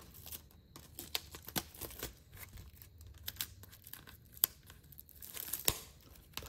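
Tight plastic shrink wrap is torn and crinkled off a K-pop album, with a series of close, sharp rips and rustles in quiet surroundings.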